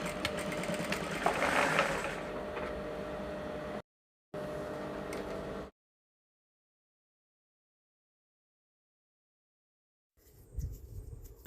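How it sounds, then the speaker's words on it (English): Sewing machine stitching joined fabric pieces for a bubu with yoke, running steadily at close range for about four seconds, then a short second run, then silence before a brief rustle. "So I'll join all these things together, and then I'll fold it into two and sew."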